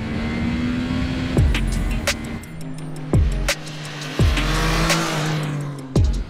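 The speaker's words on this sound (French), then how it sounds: "Il y a du caractère, il y a de la rage, regardez, entendez ce moteur." A Triumph Trident motorcycle engine revs hard several times in quick succession, each rising blip dropping back with a sharp bark, loud and close.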